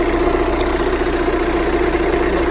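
A 2.0 diesel Skoda Octavia engine idles steadily with a low, even rumble and a constant hum, close by, with no talking.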